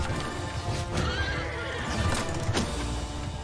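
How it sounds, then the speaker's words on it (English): A horse neighs loudly after being struck in a Bannerlord battle, a shrill whinny over clattering hooves and the roar of combat. "Ooh, I hit a horse."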